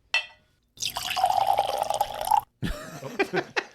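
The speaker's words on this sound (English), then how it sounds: "all right, I'm going to pour." WhistlePig 10 Year Single Barrel rye whiskey glugs and trickles from the bottle into a glass in a steady pour of about a second and a half, framed by short clinks and handling noises.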